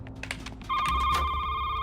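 Telephone ringing in a video game, a steady electronic ring tone starting partway through and continuing loud to the end over a low rumble of game sounds.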